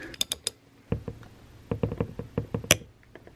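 A small quarter-inch ratchet wrench working a bolt on a VW cam adjuster, giving sharp irregular clicks and creaks in short bursts, close up with no talking.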